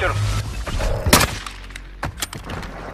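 Gunfire in Warzone Mobile, a shotgun-style blast with a sharp loud burst near the middle and a few lighter thumps afterward, under game voices and background noise.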